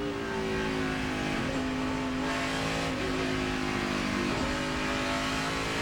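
A NASCAR Cup race car engine at the 2006 Save Mart 350 revs hard and loud, its tone rising and snapping down through several quick gear shifts in steady succession, with no voices over it.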